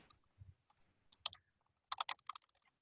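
Keys tapped on a computer keyboard in two short bursts of quick, light clicks separated by a pause, close and fairly quiet, with a soft low thump earlier on and no talking.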